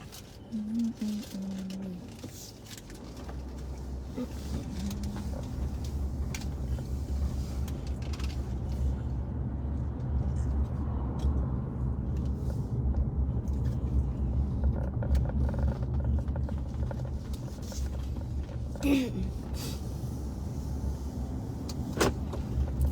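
A car rumbles nearby with a low, steady engine drone and a short whir like a power window, while people talk and exclaim over it.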